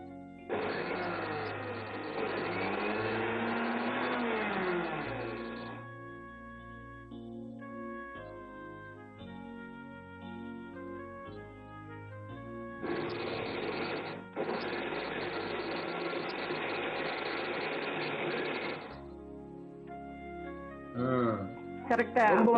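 A mixer grinder grinds lentils with dried red chillies in a kitchen, running in two long loud whirring bursts with a pause between them and a short burst at the end, while people talk throughout.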